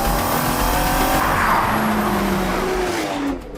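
Cars accelerating hard together on a mountain road, Hammond's among them a Bentley, with a loud continuous engine roar that swells and rises in pitch, faint tyre noise underneath, and a slight drop near the end.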